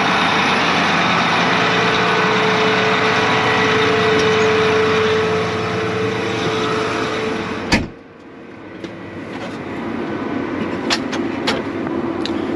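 A John Deere 8235R tractor engine runs loud and steady at close range, a sharp clunk near eight seconds, then a quieter, lower idle afterward.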